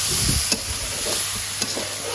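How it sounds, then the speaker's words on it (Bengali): Shrimp and small fish fry in a pan in a Bengali kitchen, giving a loud, continuous close sizzle with occasional scraping knocks as they are stirred. "আর চিংড়ি মাছ কষানো হচ্ছে চিংড়ি মাছ কষানো কমপ্লিট এবারে হচ্ছে বাদে মাছগুলো দিয়ে দিলাম"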